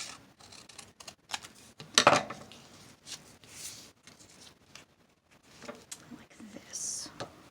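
Scissors snipping through card paper for handmade valentine cards, a few soft crisp cuts up close among quiet rustling and faint whispered talk.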